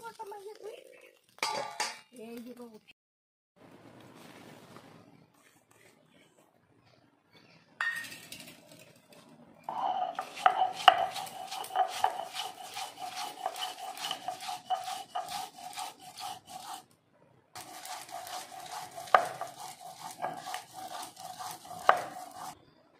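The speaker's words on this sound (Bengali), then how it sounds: "নামিয়ে আমি শিলনোড়ায় বেটে নেব।" Fried dried shrimp being ground on a sil-nora grinding stone, with rhythmic scraping and grinding strokes in bursts separated by pauses, close and moderately loud.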